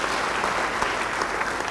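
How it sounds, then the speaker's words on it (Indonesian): A church congregation gives a short burst of brisk, continuous applause, a dense clatter of many hands at moderate volume with no talking over it. "Yang percaya beri tepuk tangan bagi Dia."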